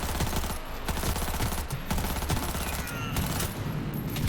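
Rapid rifle gunfire in the video game Cyberpunk 2077, dense repeated shots in quick bursts with brief gaps, moderately loud over busy game sound.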